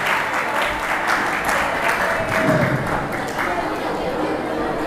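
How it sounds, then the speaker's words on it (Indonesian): An audience at an Islamic boarding school orientation session gives steady, dense applause that carries on through the whole five seconds at an even level. "Tepuk tangan untuk Danang."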